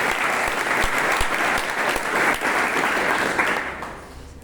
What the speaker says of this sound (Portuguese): Vou pedir uma salva de palmas para ela.